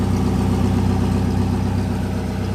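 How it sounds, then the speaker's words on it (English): A full carbon fiber Koenigsegg CCXR supercar idles with a steady, deep rumbling engine drone, loud and close, with no talk. "It's idling a little bit."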